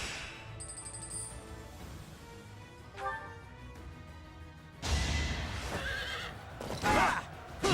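A horse in Fire Emblem: Three Houses whinnies twice, sharp and loud, with hooves clopping and game effects scattered through the clip.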